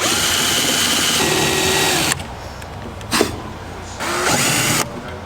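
Power drill boring into the metal body of a 1982 Ford Capri: a loud, close, steady whine for about two seconds, then a brief burst and another sustained run of drilling.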